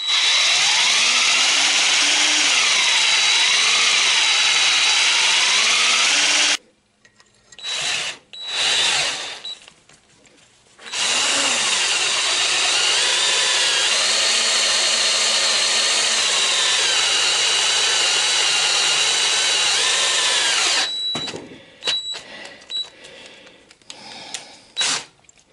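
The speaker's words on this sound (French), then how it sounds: "maintenant il faut que je perce le plus droit que possible" Power drill boring holes in trunk hinge parts for a Citroën Traction 11B, loud steady whine near at hand, run in two long stretches broken by short pauses and bursts.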